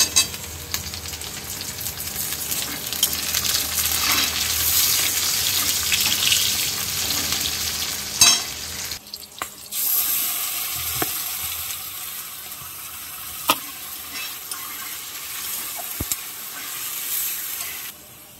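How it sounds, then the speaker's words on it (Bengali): Onion and capsicum frying in oil in a home kitchen pan, a steady loud broadband sizzle with scraping stirs, dropping quieter after a break midway, then a softer sizzle with occasional sharp clicks; no talking. "তো পেঁয়াজটা এখন হালকা করে একটু ভেজে নেব।"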